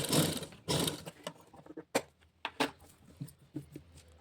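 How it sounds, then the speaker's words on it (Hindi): A sewing machine stitching piping onto a blouse runs in two short rapid bursts, then gives sparse, quieter mechanical clicks and taps, all close and fairly soft. "सिलाई लगा लेंगे।"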